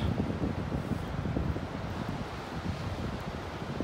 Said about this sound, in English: and that wind.